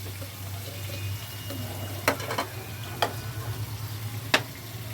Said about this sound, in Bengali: পটলটা ভাজা হোক। পটলটা ভাজতে ভাজতে আমি এখানে মশলাটা করে নেবো।